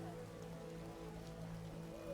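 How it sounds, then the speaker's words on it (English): Steady, dense rain in The Witcher hisses continuously over a low background hum, with no voices. "Some serious rain."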